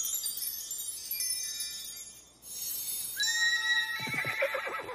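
A cartoon horse whinnies loudly with a rising, wavering neigh near the end, following a stretch of bright chiming tones and soft background noise, in the children's show Super Why.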